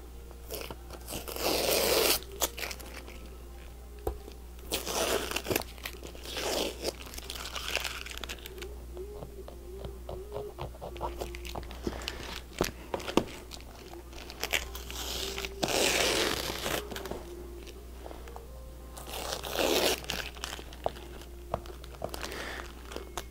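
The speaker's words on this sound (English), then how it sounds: "once you give it enough bonding time, you peel your tape off" Masking tape is peeled in repeated crackling, tearing bursts from bonded acrylic sheet, the strips pulled off in several separate passes with quiet pauses between them, close by and moderately loud.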